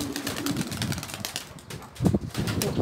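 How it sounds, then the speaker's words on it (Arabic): Domestic pigeons in a loft area, coos and wing flaps mixed with a busy ambient bustle, moderately near and fairly continuous, with a louder burst of activity near the end. "دابا الحمام تقريبا هذه ساعه هما كيطيروا"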